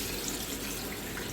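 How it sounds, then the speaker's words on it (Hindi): Water pours steadily into a pressure cooker holding beef for haleem, a continuous close splashing rush with no voices. "अब मैं इसमें पानी डालूँगी"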